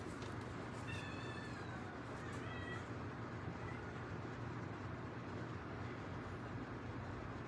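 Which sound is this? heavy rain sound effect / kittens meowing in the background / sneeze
kittens meowing in the background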